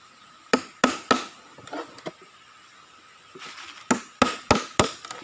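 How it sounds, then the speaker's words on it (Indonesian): A stingless bee hive has holes punched in it by hand with a tool outdoors in a garden, heard as sharp, close knocks in two bursts of three or four blows, separated by softer taps and quiet handling. "pakai pat begini kasih lubang"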